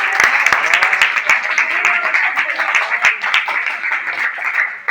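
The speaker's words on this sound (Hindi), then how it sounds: "नीतीश कुमार के लिए एक बार ताली मार दीजिए" A crowd at a quiz contest applauds for Nitish Kumar, dense sustained clapping that runs loud and steady throughout with no gaps.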